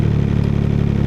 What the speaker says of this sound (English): when you go to sport mode, the tack will climb and your idling RPMs are higher